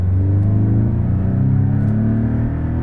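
A used Porsche 718 Cayman with its 2.0-litre engine accelerates hard, a loud, continuous close-up engine growl with rising harmonics and steady rumble throughout.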